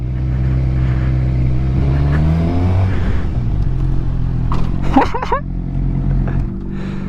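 A motorcycle does a circle burnout, its engine droning loudly and revving up and down steadily nearby. Sharp squeals and scrapes from the tyres come near the end.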